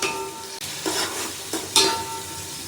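Onion, garlic, dry chili, cumin and tomato frying in a pan for chitranna, a steady close sizzle broken by a few sharp stirring scrapes and bursts as ingredients go in.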